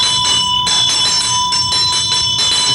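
A ritual hand bell used in ninjutsu practice rings with a bright, sustained metallic tone, pulsing in steady repeated strikes, loud and close with no talking.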